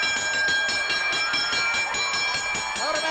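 A ringside bell clangs in rapid repeated strikes at a Fort Worth wrestling match, a steady metallic ringing pulse over the murmur of the arena crowd.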